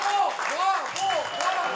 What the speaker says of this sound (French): Ça vaut la peine de les applaudir.